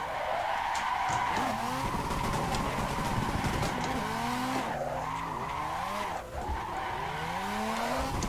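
Mazda FD drifting on the handbrake in the Assetto Corsa sim, with repeated squealing tire slides whose pitch sweeps up and down in overlapping waves over a steady engine drone, loud and continuous with no talking.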